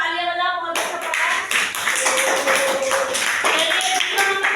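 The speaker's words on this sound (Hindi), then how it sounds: "चलो भाई इसके लिए तालियां बजाओ" Children clap together for a classmate's poem recitation in a classroom, a dense, steady patter of many small hands that lasts the whole stretch, loud and close, with faint voices mixed in.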